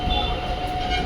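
A train pulls out of a station in Katwa, a steady broadband rumble of wheels and carriages with a faint high squeal running through it. The sound is close and continuous, with no voices.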